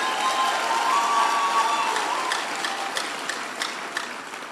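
Applause from an audience at a Nigerian youth rally, a dense, steady wash of clapping that stays loud at first and then slowly thins and fades.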